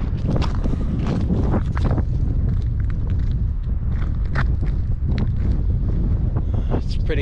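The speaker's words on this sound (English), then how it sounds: "It's pretty windy, like." Strong wind buffets the microphone outdoors at an abandoned tile works, a steady loud rumbling roar with gusty bursts. Faint voices sit under the wind throughout.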